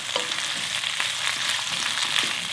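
Cabbage stir-fries for spicy sundae-bokkeum, a bright, continuous sizzle with faint scraping and tossing in the pan.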